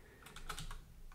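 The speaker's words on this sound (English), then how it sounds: "Now go into command mode and type" A computer keyboard is typed on while entering a Neovim command, a quick burst of about six crisp key clicks close by in a quiet room.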